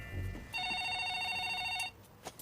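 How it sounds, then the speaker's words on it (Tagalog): A telephone ringing indoors, one steady electronic trill of about a second and a half, fairly faint, with soft background noise before and after. "Val, ang telepono! Ma, yung telepono"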